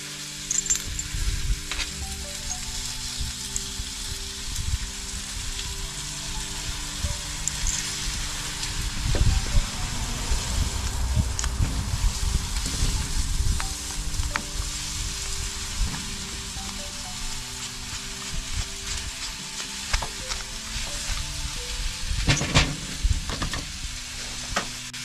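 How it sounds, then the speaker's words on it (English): An ultrasonic cleaner works on a Cub Cadet mower carburetor, giving a steady low hum under a continuous fizzing, crackling hiss with occasional faint clinks, and no voices. "I'm going to put this in the ultrasonic cleaner"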